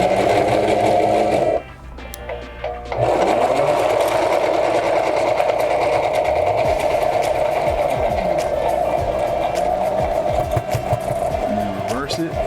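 A sewing machine stitches along the top edge of a fabric mask, a steady close, loud whirring drone that runs almost throughout, broken by a brief pause near the start before the motor resumes.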